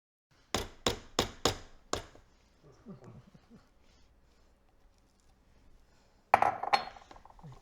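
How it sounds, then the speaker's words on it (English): A utensil works zucchini by hand into chocolate cake batter in a kitchen bowl: five sharp clinks against the bowl open, followed by soft, faint mixing sounds and another loud burst of clatter near the end. "So that's what I'm going to do, is manually blend the zucchini in."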